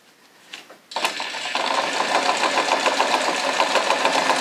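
Sewing machine stitching strings onto a cloth face mask, a few short hesitant pulses and then a steady close mechanical whir running continuously, with no talking.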